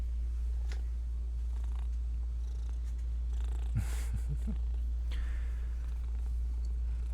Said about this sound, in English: I don't know if you can hear it right now, but he is purring a lot.